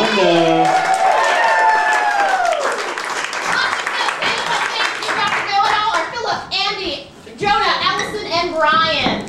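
Steady applause from an audience after a student improv comedy show fills the whole stretch, with children's voices chattering and calling out over the clapping.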